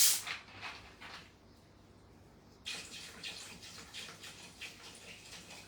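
Soda water is poured into a Thermomix bowl, a faint fizzing splash that pauses briefly, then resumes as a steady, quiet stream with a light effervescent hiss.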